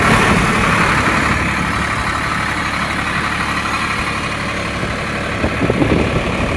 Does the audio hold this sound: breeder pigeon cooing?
no